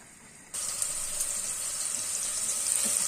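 A sudden loud sizzle starts as chopped onions hit hot oil in a pan, then a steady crackling fry continues close up.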